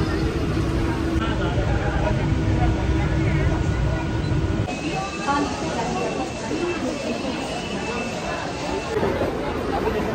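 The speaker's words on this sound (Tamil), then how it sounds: "ட்ரெயினில் கிளம்பியிருக்கோம்." A Mumbai train ride rumbles along with steady broadband clatter and motion noise. A crowd murmurs throughout, and a person talks over the ride.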